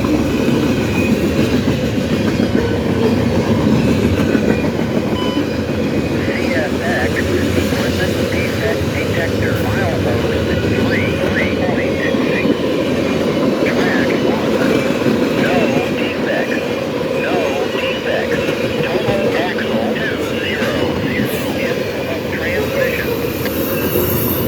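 A CSX mixed freight train rolls past on its run from Cincinnati to Selkirk, a loud, steady rumble of railcars with rhythmic clatter and occasional wheel squeal persisting throughout.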